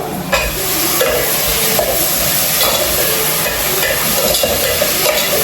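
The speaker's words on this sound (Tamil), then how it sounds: "தக்காளியும் பச்சை மிளகையும் நம்ம வந்து சேர்க்கலாம்" Tomatoes and green chilies frying with onions for a mutton boti kuzhambu, a loud, steady sizzle with stirring scrapes and a few spoon clinks throughout, close up and with no talking.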